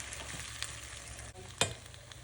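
A broccoli omelette frying in a pan, a soft steady sizzle broken by one sharp scrape or clatter of a spatula, quiet and close.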